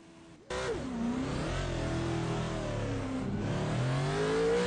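A NASCAR race car in the iRacing simulation at Daytona zigzags down pit road, its engine kicking in loudly and then revving and droning with rising and falling pitch, close and steady.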